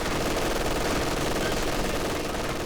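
Conscript infantry rifle fire in the real-time strategy game Company of Heroes 2, a dense, continuous crackle of overlapping gunshots forming one loud wall of battle noise with no pauses.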